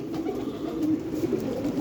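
Several flying-breed pigeons coo steadily and close by, a low throaty burbling that rolls on continuously with no voices over it.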